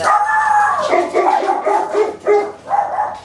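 Several dogs barking and howling loudly at close range, overlapping yelps and bays in irregular bursts.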